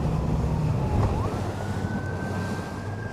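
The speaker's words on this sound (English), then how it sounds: "An ambulance." A siren wails faintly in the distance across Lake Guntersville, heard over wind buffeting the microphone, its rising pitch sweeping slowly.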